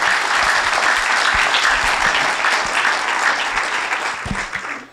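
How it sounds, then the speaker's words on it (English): A live audience at an author event gives a big round of applause, dense and steady throughout before thinning out at the end, with no voices over it. "let's welcome them to the stage and give them a huge round of applause"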